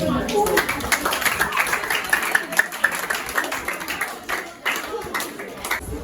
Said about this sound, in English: Let's welcome, with a clapping ovation